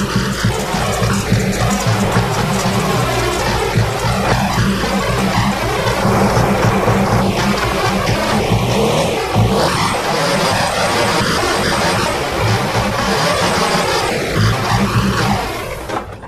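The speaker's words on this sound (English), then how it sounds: "And the engine is running very rough." A Jaguar engine idling roughly because of a faulty throttle body and pedal position sensor, giving a loud, continuous, uneven mechanical drone with no talking over it.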